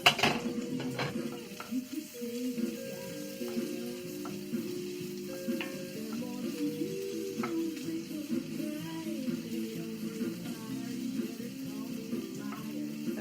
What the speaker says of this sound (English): I'm going to stir up the onions.